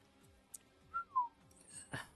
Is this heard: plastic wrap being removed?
no